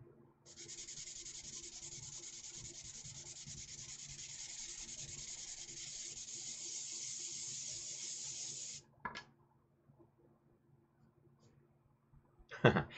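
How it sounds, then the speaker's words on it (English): Steady rasping strokes of sandpaper dry-sanding a small hard plastic model kit part run for several seconds, close and even, then stop, followed by a few faint clicks and knocks. "Yeah, Dean, wet sanding will come later, buddy."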